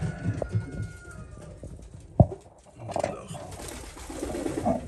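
Syrian Damascus pigeons kept in Berlin give soft, low cooing calls at close range, mixed with a sharp thump and some rustling, against faint background noise.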